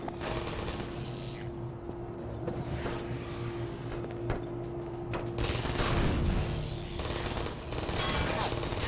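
Turret gunfire in the video game Half-Life 2 RTX, steady dense rattling bursts over a continuous mechanical hum, with louder volleys toward the end and a voice speaking briefly.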